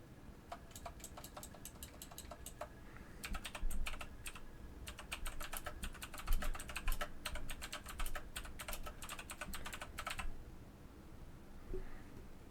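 Rapid key clicks on a computer keyboard while a tweet is typed, arriving in close, quiet bursts with brief gaps before stopping near the end, over a low steady background hum.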